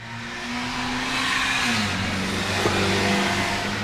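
A Hyundai Tucson engine revs hard and climbs through its gears, with a steady droning tone that dips briefly at a shift before pulling again, loud and close.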